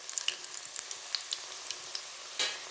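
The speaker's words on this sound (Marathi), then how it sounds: "मीडियम आचेवरती छानपैकी तळून घ्यायच्या पुऱ्या" Spinach puris with sesame seeds deep-frying in oil on medium heat, a soft steady bubbling sizzle with small crackling pops, fairly quiet and close, with no one talking.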